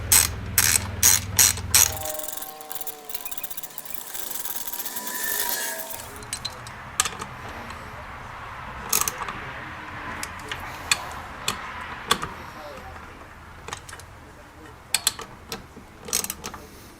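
A ratchet tightens 8 mm bolts on a Honda Grom during a fourth-bearing install, opening with a fast run of loud pawl clicks, then scattered sharper ticks and short clicking bursts over a quiet background.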